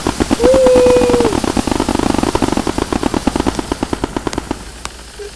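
Fireworks bursting in Roblox Bloxburg, a rapid rattling string of sharp cracks that starts loud and thins into sparser pops, with a brief whistle near the start.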